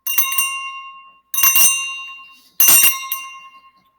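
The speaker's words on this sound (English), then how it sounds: "So you could say ringing a bell 3 times in each room" A hand bell used in a cleansing ritual rings three times at even intervals, each bright metallic strike ringing out and decaying before the next, close and clear with no talk.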